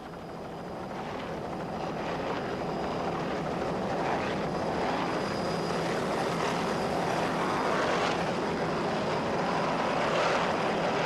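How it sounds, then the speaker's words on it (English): A 30-foot Wellcraft Scarab offshore racing powerboat at a 1995 offshore powerboat classic gives off a loud, continuous engine roar that swells slightly as it throttles, with no talk over it. "Nice throttling job there, Lee Austin."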